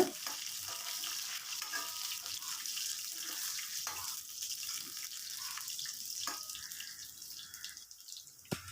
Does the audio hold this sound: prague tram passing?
no